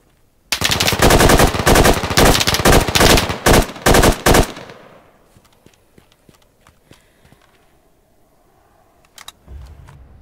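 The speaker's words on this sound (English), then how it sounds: "Now I saw him on the wall, so I put some shots down." Rapid bursts of automatic rifle fire in the military shooter Squad, loud and close, in a dense rhythmic string for about four seconds, followed by quieter scattered distant shots and faint movement.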